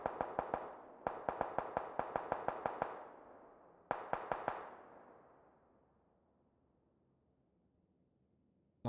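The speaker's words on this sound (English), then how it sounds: "Long range AR sprays." Assault rifle sprays in PUBG on the Vikendi map, heard as three rapid bursts of sharp, loud shots, each burst fading into a long echoing tail before a quiet gap.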